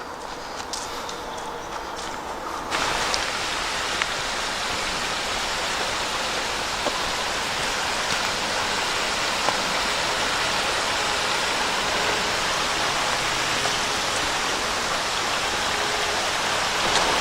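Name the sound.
creek flowing through forest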